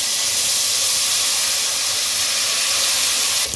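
Onion browning with ginger-garlic paste in a pan, a loud, even, unbroken hiss of frying that holds steady throughout, with no voices.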